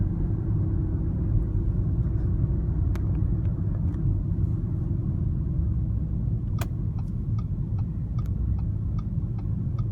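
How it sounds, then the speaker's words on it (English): Cabin of a 2016 Audi Q5 TDI diesel driving on the road, with a loud steady low rumble of engine and tyres and occasional light ticking clicks from inside. "I'll just kind of drive around normally so you can see"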